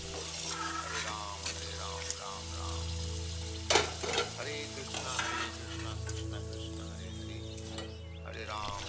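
Vegetables such as eggplant frying in oil until dark brown, a steady close sizzle with scraping and clattering of stirring, plus a low hum and a faint tonal background.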